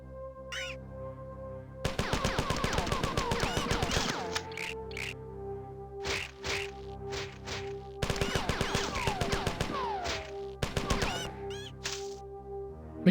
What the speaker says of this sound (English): Machine Gun FX is satisfying?